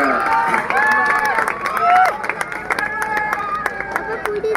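A crowd claps and cheers at a wrestling bout in Pimpri Chinchwad as winner Aniket Mangade is declared, with scattered sharp claps under a loud announcer's voice.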